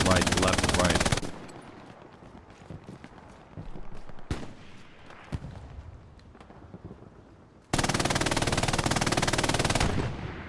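Bursts of automatic gunfire from the World War II shooter game Hell Let Loose on Utah Beach, loud sustained firing at the start and again near the end, with quieter distant shots and booms between.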